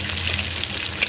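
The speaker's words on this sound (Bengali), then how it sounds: "তো মাছগুলো উঠিয়ে আরেকটা মাছ দিয়ে দিচ্ছি।" Hilsa fish from the Padma river frying in oil, a brief, dense and even sizzle heard up close with no voices.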